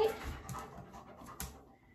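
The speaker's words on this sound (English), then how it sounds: "Is anybody else's dogs really afraid of storms like mine? She's like pacing back and forth, panting." A dog frightened by a storm pants quickly and softly indoors, with faint whimpering and breathy rhythm, fairly quiet and close, no talk over it.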